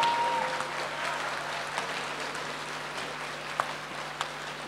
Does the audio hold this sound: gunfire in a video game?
no